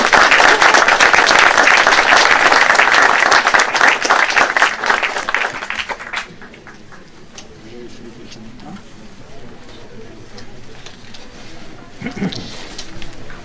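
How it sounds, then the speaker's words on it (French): A loud burst of audience applause for Hugo fills the first half, many hands clapping densely before quickly dying away into a quiet room with scattered faint claps and murmurs. "Bravo Hugo, le petit a bien grandi, il mérite des applaudissements."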